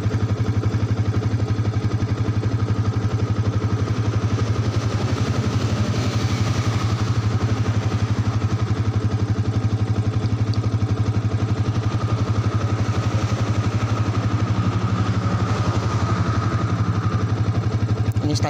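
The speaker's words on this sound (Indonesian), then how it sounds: "Nyala motornya." A Yamaha Vixion motorcycle with a fault that makes it stall, being tested on a normal battery, idles steadily with a low, even engine rumble and light mechanical clatter, close and continuous.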